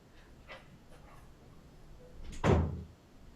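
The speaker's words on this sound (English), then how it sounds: "I think the wind blew the front door shut" A front door blown shut by the wind lands as one dull thud at a distance in a quiet home, preceded by faint soft knocks.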